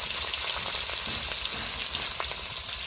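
Katla fish sizzles in hot oil, a dense, steady crackling hiss that fills the whole moment without pause.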